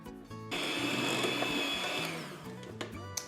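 An electric kitchen mixer whirring steadily through cake batter for a raspberry cake, a loud close motor whine that switches off, followed by softer knocks and scrapes.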